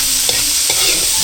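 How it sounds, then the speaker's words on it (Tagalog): Onion and garlic sautéing in a pan give a loud, steady sizzle, with a few brief scrapes of a spatula stirring close by. "Nagigisa na po ng sibuyas at bawang."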